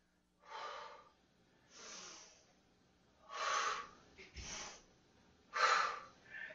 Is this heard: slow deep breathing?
yes